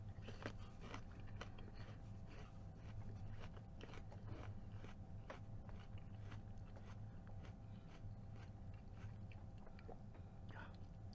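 Close-up crunching and chewing of small pieces of raw ginger and apple, a steady run of moist bites and mastication sounds that continues evenly throughout.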